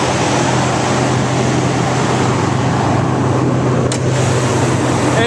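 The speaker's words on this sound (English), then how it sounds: "This truck sounds great and it runs very smooth." A 2011 Dodge Ram 1500 with a 5.7L Hemi V8 runs at a smooth, steady idle, a constant close engine rumble and hiss with no talk over it.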